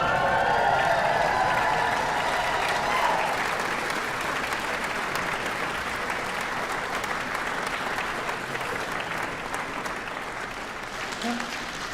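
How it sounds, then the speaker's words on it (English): A convocation ceremony audience applauds and cheers together, a dense wash of clapping with whoops that starts loud and gradually tapers off over several seconds, filling the hall. "you can cheer, you can hoot and holler, stamp your feet, make so much noise to thank everybody that helps you"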